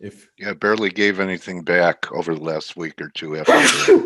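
A single sharp sneeze bursts out near the end, right after a stretch of someone talking during an online finance webinar.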